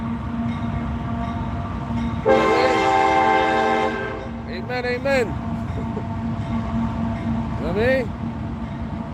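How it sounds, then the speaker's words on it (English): A train rolls past with a long blaring horn blast followed by shorter horn toots, loud and fairly close, while someone talks over the rumble. "That's the Truth of God train coming through"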